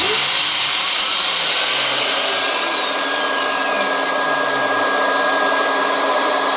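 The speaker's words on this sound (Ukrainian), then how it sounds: "вмикаєте болгарку, пилосос вмикається автоматично і вимикається" A loud, steady whine of a GTM JN503 construction vacuum running alongside an angle grinder, with a high grinding hiss filling the whole stretch.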